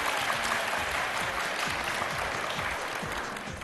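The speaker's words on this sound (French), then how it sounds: "je vais vous demander de redoubler d'applaudissements pour notre amie étrangère" An audience applauds a Korean guest in a steady, dense wash of clapping that stays loud throughout and tapers slightly at the end.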